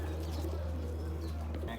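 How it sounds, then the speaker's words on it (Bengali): Giribaz pigeons, a pair kept by a fancier in Rajshahi, give low cooing over a loud, steady electrical hum, with voices murmuring nearby. "এইটা গিরিবাজ কবুতর, মাছরাঙ্গার মতন খেল"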